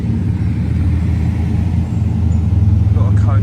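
A Bugatti Veyron hypercar rolls slowly past in a convoy at Goodwood, a steady low engine rumble with road noise, close and fairly loud, building slightly toward the end.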